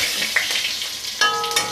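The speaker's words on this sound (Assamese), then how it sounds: "জলকীয়া 2টা অকণমান ভাজ খোৱাকৈ ভাজি ল'ম" Dry red chillies and a bay leaf fry in hot oil in a wok, giving a steady close sizzle with a few sharp crackles and pops near the end.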